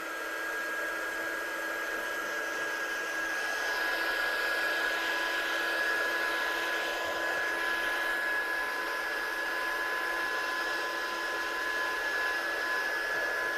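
A hair dryer blows a steady, close, continuous whoosh with a faint high whine, drying textured Izink Diamond 24 Carats paste on a craft background, with no pauses or talk.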